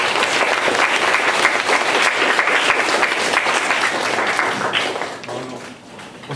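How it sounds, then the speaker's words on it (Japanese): An audience applauds steadily for several seconds after a lecture, a dense patter of many hands that fades out toward the end. "まずは拍手かな"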